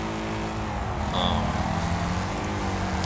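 Steady engine drone from a car in a racing video game, loud and continuous with a brief higher whine midway, running alone for about three seconds.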